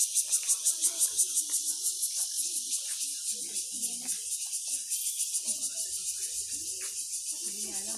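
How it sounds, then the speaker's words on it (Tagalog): Crickets chirp in a fast, steady pulsing trill throughout, while people talk quietly underneath. "Rinig na rinig ang kuliglig ng ano eh."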